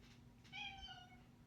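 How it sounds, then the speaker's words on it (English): A cat gives a single clear, drawn-out meow, close and fairly quiet, in an otherwise calm indoor room. "And that's my cat."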